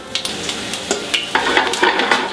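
Vegetables sizzle in hot olive oil in a frying pan for Provençal pork, with a steady crackle broken by the clinks and scrapes of stirring.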